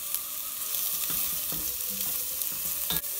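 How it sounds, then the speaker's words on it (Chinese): Ginger slices and onion sizzle in a little oil in a wok, a steady bright frying hiss broken by several scraping stir strokes, close and alone without voices. "我在个锅里加了些少油，然后落了姜片，先爆一爆姜，接着我就加上洋葱"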